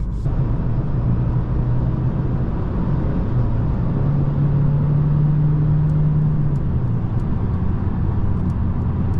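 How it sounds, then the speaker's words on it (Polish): A sporty car accelerates while driving, its engine a steady, loud drone whose pitch climbs gradually, under a constant bed of road noise. "i naprawdę całkiem żwawo się odpycha ten samochód i jeździ naprawdę świetnie"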